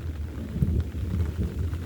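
Heavy rain pours steadily with deep low thunder rumbling beneath it, a dense continuous downpour with no voices.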